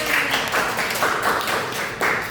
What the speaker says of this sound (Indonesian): Tepuk tangan dulu dong buat Aina.